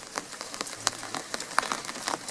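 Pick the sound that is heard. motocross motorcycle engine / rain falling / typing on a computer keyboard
rain falling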